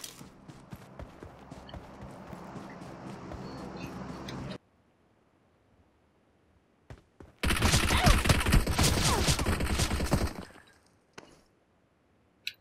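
Bursts of gunfire in PUBG Mobile: a dense, sustained volley of rapid shots, then a quiet gap, then a second loud barrage of shots for about three seconds, followed by a few isolated pops.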